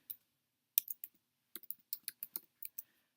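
Fingers typing on a computer keyboard, quiet close key clicks in short irregular bursts with brief pauses between them, no voices.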